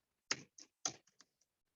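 Short bursts of computer keyboard typing as an email address is entered, about five or six quick keystroke clicks in two clustered groups, close and crisp against near silence.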